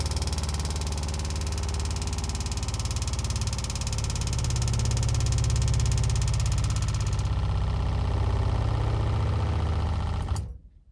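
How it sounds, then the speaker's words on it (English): A travel trailer's water pump runs steadily while charging the plumbing lines during winterizing, a loud constant motor hum and vibration that holds for about ten seconds and then cuts off as the lines pressurize. "There you can see it just starting to charge up all the line. And when it's lines are charged,"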